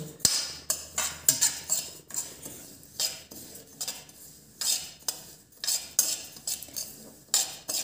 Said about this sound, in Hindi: अब इसी गरम कढ़ाई में हम इस राई की दाल को डाल देंगे और इसे भी हम ड्राई रोस्ट करेंगे